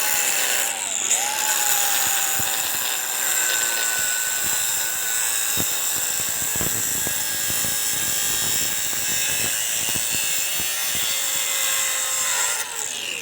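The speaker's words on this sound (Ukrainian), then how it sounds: "Тепер дивіться, для чого треба акумуляторна болгарка?" A cordless angle grinder cutting scrap metal, including brass, whines continuously at close range, with a steady grinding buzz and faint crackling throughout.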